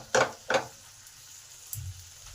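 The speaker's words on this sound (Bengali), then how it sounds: "এই সব মশলা ভালোভাবে কষে নেব।" Coriander and chili powder frying in a pan for a potato-cauliflower curry, two short scraping stirs near the start, then a quiet, low sizzle with no talk.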